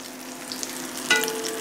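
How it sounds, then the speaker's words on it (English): Meatballs gently sizzle and crackle in hot olive oil, a soft steady frying hiss with a brief louder spatter midway, close and without talk. "just wait for them to fry"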